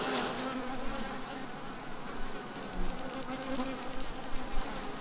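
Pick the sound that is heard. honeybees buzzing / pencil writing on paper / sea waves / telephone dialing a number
honeybees buzzing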